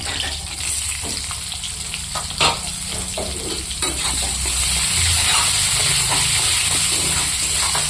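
Onion frying in a little oil in a wok (kadai), stirred repeatedly: spatula scrapes and knocks over a bubbling sizzle that grows into a fuller, louder hiss midway.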